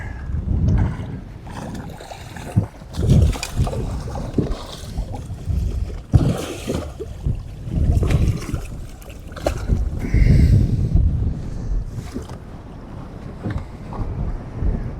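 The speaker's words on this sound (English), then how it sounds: "Man, that wind's kicking up." Strong wind buffets the microphone outdoors with low, rumbling gusts that rise and fall throughout, and occasional thumps and brief faint voices come through underneath.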